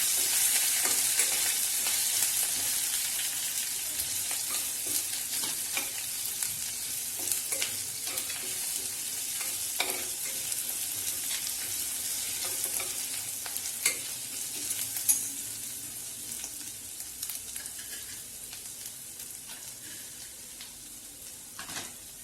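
Grated ginger and curry leaves crackle and sizzle in hot oil while a spoon stirs them through, giving a steady close frying hiss broken by scraping strokes, with no talking.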